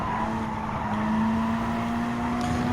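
A race car in Gran Turismo 7 circuit practice at Kyoto Driving Park, Yamagiwa Sector 2, its engine holding a steady loud drone with a high sustained tone that rises slightly, with no talk over it.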